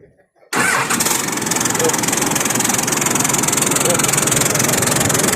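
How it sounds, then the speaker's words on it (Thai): A car engine with its exhaust pipe removed cranks and bursts into life, then runs loud, raw and unmuffled with a steady rapid pulsing roar, close by throughout, during a check before new exhausts are fitted. "เดี๋ยวเราจะมาฟังเสียงกันนี่แบบไม่มีท่อนะพี่น้อง"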